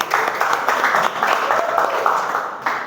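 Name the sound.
applause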